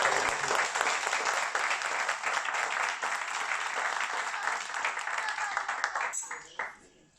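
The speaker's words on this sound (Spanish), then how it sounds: "Démosle un aplauso grande al Rey de Reyes, Señor de Señores." A church congregation gives a big round of applause during a service, a dense continuous clapping that holds strong for several seconds, then thins and fades out near the end.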